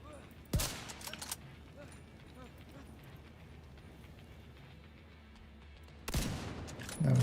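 Two sharp, loud gunshot bursts from a video game rifle fire near the start and again near the end, separated by a quiet stretch of low ambient game noise.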